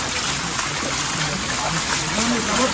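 Floodwater rushes strongly through a village in a steady, broad roar and churn, close and loud, while someone talks over the flow.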